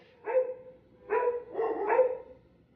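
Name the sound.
pug dog barking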